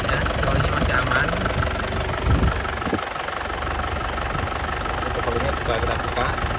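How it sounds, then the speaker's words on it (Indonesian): A 2003 Isuzu Panther diesel engine idles steadily and close by, a dense continuous rumble with faint knocking texture that stays even throughout. "stabil dan suaranya renyah khas Panther ya. Dan mesinnya tidak pincang ya, tidak goyang gini."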